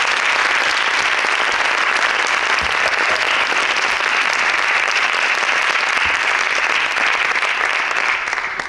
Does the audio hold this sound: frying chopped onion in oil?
no